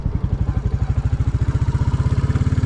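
Royal Enfield Classic 350 single-cylinder motorcycle engine idling nearby with a steady, evenly spaced thumping beat, heard alone without talk.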